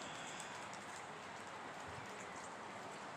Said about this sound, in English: It's been raining here pretty much all day.